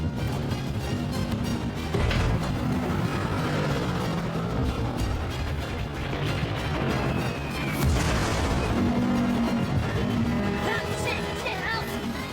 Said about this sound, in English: 28 Allied bombers drop their 6-ton loads.